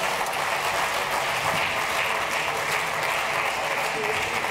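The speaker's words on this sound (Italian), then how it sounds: "Accogliamolo con un applauso" Steady applause from an audience at an Italian festival event, continuous dense clapping at an even level throughout with no pauses or voices standing out.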